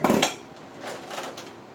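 Dishes and cutlery clatter in a kitchen sink during hand washing, a sharp clink at the start followed by softer scattered knocks and rattles, close and with no talking.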